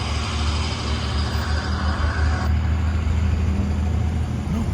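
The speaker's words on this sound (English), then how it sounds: "I bet I can make this car move" A car on a city street, a low engine rumble and road noise that changes partway through as the vehicle pulls away, with continuous outdoor background hum.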